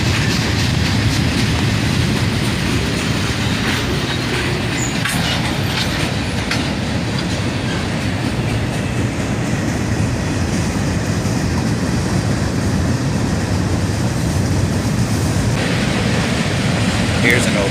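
A CSX freight train rolls steadily across a bridge, a continuous loud rumble of wheels and wagons with faint clickety-clack, holding throughout with no break.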